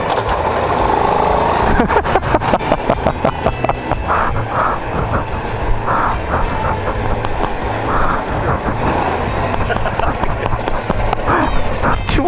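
A 2006 Daelim Citi 100 motorcycle engine is started and then idles, giving a loud, rapid, steady putter of close single-cylinder firing pulses, while people talk over it.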